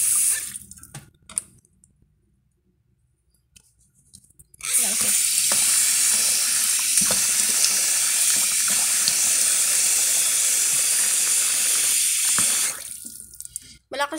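A bathroom sink tap runs water in a steady, loud, close rush lasting about eight seconds, preceded by quieter handling noises and brief talk.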